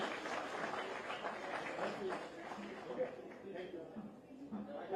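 Applause from an audience in a hall in Dehradun welcoming newly selected transport department constables before the Chief Minister, a soft, steady patter of clapping heard at a distance with a voice speaking over it.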